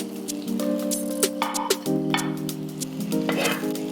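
Fish fry in hot oil in a home kitchen pan, with a steady sizzle and bubbling throughout, broken by a few clinks and stirring sounds.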